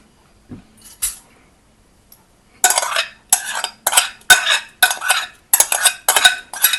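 Chopped hot peppers are scraped and tipped into a saucepan, making a quick series of close, sharp metallic scrapes and clinks from a spoon against the pot, after a few quiet taps.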